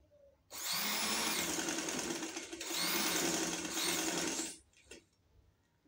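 A sewing machine runs in two long bursts, stitching straight seams on a shirt sleeve with loop and dori cutwork, fairly close and steady with a short pause between, then stops.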